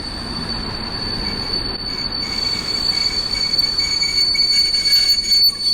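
A passenger train hauled by an EP08 electric locomotive at Warszawa Służewiec gives a loud, continuous rumble of wheels with high, steady squealing that builds slightly, heard alone with no voices.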